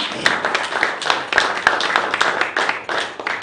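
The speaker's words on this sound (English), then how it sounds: "Please give them a round of applause." Audience applause at a reception in London's Claridge's honouring 2012 Olympic athletes from the Bahamas: a dense, steady patter of many hands clapping for several seconds, with a few sharper individual claps standing out.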